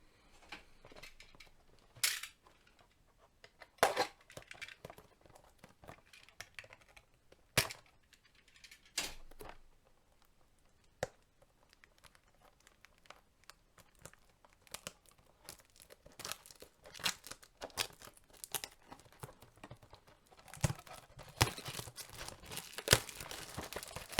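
WWE trading card packs being cut and torn open at close range, with sharp crinkling and tearing bursts of foil wrapping in irregular clusters, growing busier toward the end, no voices.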